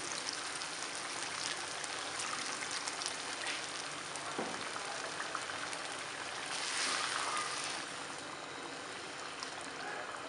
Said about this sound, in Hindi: अब थोड़ा सा पानी शामिल कर देंगे।